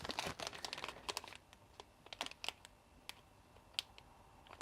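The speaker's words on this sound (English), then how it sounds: "Now we peel off the plastic, close it" Plastic wrapping on a flameless ration heater from a 2016 UK 24-hour ration pack being peeled off and put back, heard as close, quiet crinkles and crisp rustling clicks in scattered bursts with no talking.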